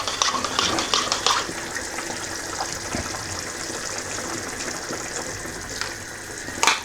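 A spoon stirs a cornstarch and water slurry into simmering pork pares, making wet swishing and bubbling with a few sharper clinks at the start and end, continuous and close, with no voices.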